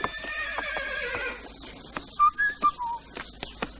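A horse neighs with a long whinny, then hooves clip-clop in a sharp, spaced rhythm close by, alongside short whistled tones, with no talk.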